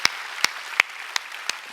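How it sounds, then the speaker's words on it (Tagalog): A church congregation claps in unison during a service, five sharp, evenly spaced claps in quick succession, close and fairly loud. "Let us give our best clap offering to our God."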